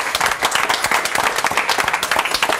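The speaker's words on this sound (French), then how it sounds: "Allez, on peut l'applaudir" A crowd at an event honoring a Swiss cowboy claps steadily for about two seconds, a brisk dense patter of hands at moderate volume with no voices over it.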